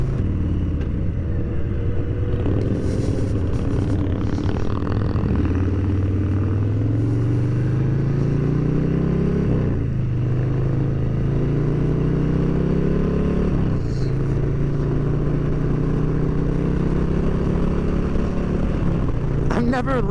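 A Harley-Davidson Street Bob motorcycle pulls hard on an open road, its deep engine note climbing through the gears in repeated rising sweeps under constant wind roar, with a rider talking over it.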